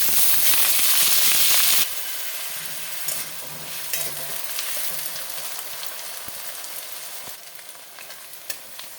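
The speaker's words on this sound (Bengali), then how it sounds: "পেঁয়াজটাকে আমি একটু লাল করে ভাজবো।" Onions frying in oil with bay leaf, dry red chillies, cinnamon, cardamom and cloves, starting with a loud sharp sizzle that drops to a softer, steady crackle with occasional stirring clinks.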